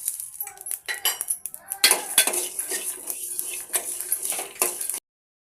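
Peanuts, coriander seeds and sesame seeds dry-roast in a pan for a cucumber chutney, the seeds rattling and clinking against the metal as a spoon stirs them in quick, scraping strokes, close and fairly soft.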